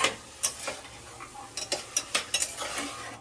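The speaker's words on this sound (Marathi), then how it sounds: "सगळं मस्त मिक्स करून घेऊया." Mixed vegetables of peas, green beans, carrot, potato and cauliflower stirred in a pan, with a scatter of close scraping and clinking spoon strokes that quicken toward the end, no talking.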